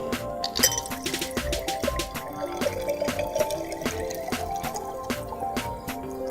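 Sangria poured into a glass, with liquid splashing and clinking ice against glass in a steady, close stream, plus a few bright taps from the glass throughout.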